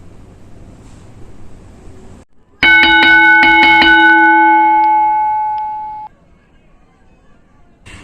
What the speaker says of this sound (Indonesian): contoh bunyi benda yang pendek itu ialah seperti bunyi lonceng